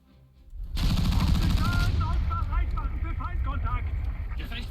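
The gun of a Wiesel vehicle in War Thunder opens up after a quiet start and keeps hammering in rapid, close, loud bursts, with voices talking over the firing.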